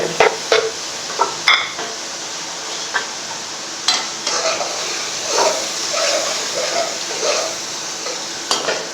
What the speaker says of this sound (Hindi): थोड़ी देर इसको भूनते हैं ऐसे